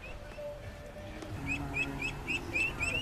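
Ducks giving high, rapid chirping calls, more like small songbirds than quacks, repeating in quick bursts that grow louder and more frequent, over steady outdoor background noise.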